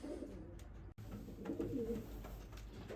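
Pigeons coo softly inside a loft where chicks are being raised, low rolling calls repeating under a faint hum and muffled rustling, with one sharp knock or bump partway through.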